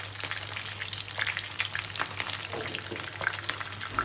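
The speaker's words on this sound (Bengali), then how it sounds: "মাছটা এমন করে ভাজবেন যে উপরেটা ভাজা হয়েছে, ভিতরেটা যেন নরম থাকে" Tilapia frying in oil in a pan, a steady close crackling sizzle with small spattering pops that runs throughout over a low constant hum.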